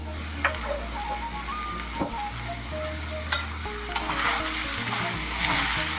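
Lean beef mince fries in about half a cup of oil for Shinwari keema, a close, loud sizzle with repeated spatula stirs and scrapes knocking through the bubbling, no talk over it.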